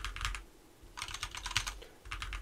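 Quick bursts of keystrokes on an ROG Scope 96% keyboard, near and fairly quiet, with a deep, thocky clack, in three separate clusters broken by brief pauses.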